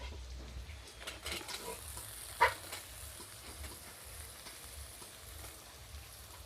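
Low, steady sizzle of a hot pan as chopped carrots go in with beans for fried rice, with light stirring scrapes and one brief louder clack midway, faint and continuous, no talking.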